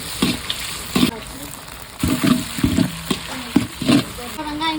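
Mint leaves frying in moderately hot oil in a home kitchen, a steady sizzle broken by several louder bursts of crackle and stirring, with a voice talking over parts of it.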